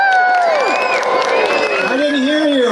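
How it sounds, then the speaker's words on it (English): A large holiday-event crowd cheers loudly, with whoops and children's shouts rising over a steady wash of applause, close and continuous throughout. "Give yourselves a big hand."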